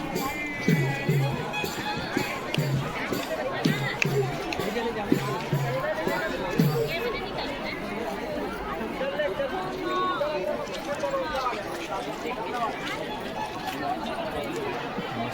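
Large crowd gathered around a Shiv Mahapuran katha pandal, a steady dense murmur of many voices with footsteps and scattered nearby chatter, continuous and fairly close throughout.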